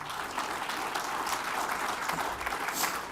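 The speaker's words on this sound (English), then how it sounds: "You can clap." An audience applauds during a Power BI customer session with MOD Pizza and Metro Bank; a dense, even round of clapping from many people continues steadily at moderate loudness for a few seconds.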